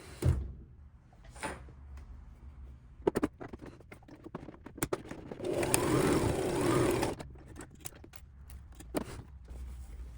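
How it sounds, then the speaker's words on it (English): Sewing machine running a zigzag stitch on a fabric tote bag, a short burst of buzzy mechanical stitching in the middle framed by scattered clicks and handling knocks, fairly quiet overall. "And then I will do a zigzag stitch over it."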